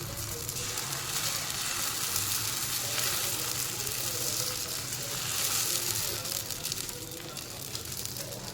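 A dosa cooks on a hot pan, giving a continuous soft sizzle and hiss that stays steady throughout, fairly quiet and with no talk.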